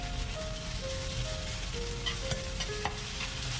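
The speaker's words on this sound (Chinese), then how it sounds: "锅中加少许菜籽油，加进刚才准备好的葱姜蒜进行爆锅" Scallion, ginger and garlic crackle and sizzle as they are stir-fried in a little rapeseed oil in a wok, a dense continuous frying hiss with brief sharp spatula clinks.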